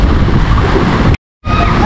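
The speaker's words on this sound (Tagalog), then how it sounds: "Malakas pa rin yung alon na ngayon." Strong sea waves during a boat trip around Boracay, a loud continuous roar of rushing water and wind, briefly cut to silence before resuming.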